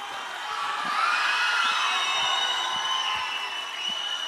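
An audience at an awards ceremony honouring the Tamil film Asuran cheers and whoops in a steady, roaring wave for several seconds, with no clear speech on top.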